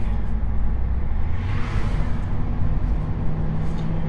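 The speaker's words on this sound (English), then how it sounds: "This car sounds really good." A 2006 Pontiac GTO cruising on a road in light traffic, with a steady, continuous low engine drone and road noise throughout, loud and close, with no talking.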